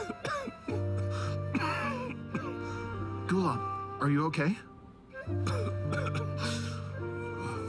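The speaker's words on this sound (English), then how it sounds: "He's coughing." A male character coughs and clears his throat in a video game cutscene from a summoner's summit duel event, a few close rough coughs set against a sustained musical score, with other characters speaking in between.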